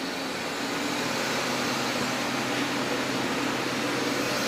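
Steady, quiet whir and hum of a 2011 Doosan Puma 2600M live-tooling CNC lathe running, an even broadband machine drone with no talk.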